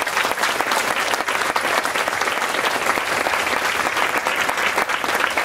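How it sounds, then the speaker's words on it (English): Sustained audience applause at an awards event honoring women of Northeastern Pennsylvania, dense and steady clapping from a large crowd, loud and continuous throughout with no talking. "Can we give them all a round of applause?"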